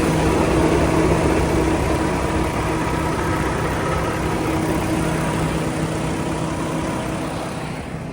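A 2019 Kenworth T680 truck with a Paccar MX13 diesel engine idling steadily, a close, even low drone that fades slightly toward the end, with no one talking.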